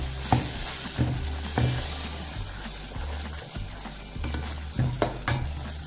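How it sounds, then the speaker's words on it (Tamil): Masala spice powders of chilli, coriander and turmeric sauté and sizzle in hot oil in a pan for egg gravy, with a spoon repeatedly scraping and stirring in steady, close strokes over a continuous frying hiss. "மசாலா போட்டு ஒரு 2 நிமிஷம் நல்லா வதக்கி விடுங்க."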